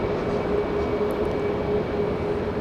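A Boeing 737-800 jet airliner at Dallas Love Field, heard as a steady, loud broadband engine roar with a faint whine, holding constant throughout and with no voices.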